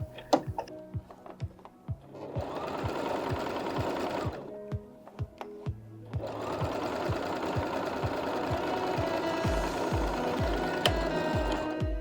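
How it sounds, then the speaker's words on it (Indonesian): A sewing machine stitches a straight seam along hijab fabric in two loud, fast runs of rhythmic needle clatter, separated by a short pause filled with sparse clicks. "Kita jahit lurus seperti ini ya teman-teman."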